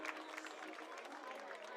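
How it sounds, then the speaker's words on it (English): Baseball dugout players applauding a right-handed pitcher as he leaves the game, a brief, quiet patter of scattered clapping heard from a distance. "A round of applause, well deserved, for the righty out of Benedictine."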